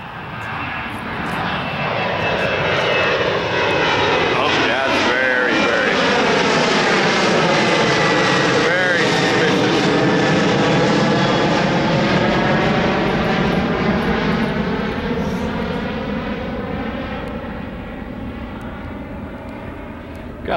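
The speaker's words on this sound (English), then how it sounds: "I hear a suspicious aircraft." An aircraft passes overhead near San Diego, its engine drone swelling steadily to a loud peak mid-clip and fading slowly away, with no talking.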